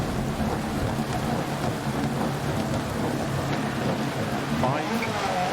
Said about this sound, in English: A lot of rain, a lot of rain.